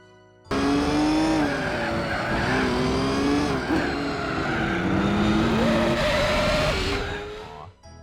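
Racing cars from Gran Turismo 4 on PlayStation 2 hold a loud, steady engine whine that rises and falls with gear changes, with tyre squeal layered in, continuous from start to end without talk.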